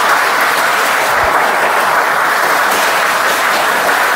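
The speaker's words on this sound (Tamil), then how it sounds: "ஒரு பெரிய கைதட்டல் நீங்களே உங்களுக்கு தட்டி கொள்ளுங்கள்" An audience claps loudly in dense, sustained applause that fills the room evenly, with no voices standing out above it.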